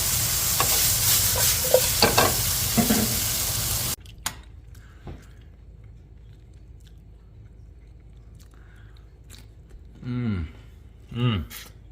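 Broccoli stir-frying with ginger and garlic in a hot pan, a loud dense sizzle and stirring for about four seconds that cuts off into near silence, followed by a few faint clicks and brief vocal sounds.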